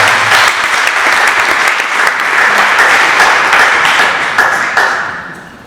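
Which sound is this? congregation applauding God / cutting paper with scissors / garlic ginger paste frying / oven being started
congregation applauding God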